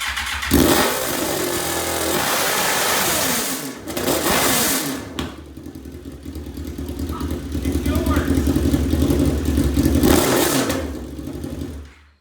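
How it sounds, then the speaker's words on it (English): A Suzuki GSX-R motorcycle engine, pulled from the bike and running on a stand, idles and revs loudly and continuously, with brief surges and a voice talking over parts of it. "now the gsxr motor is out, and it still runs"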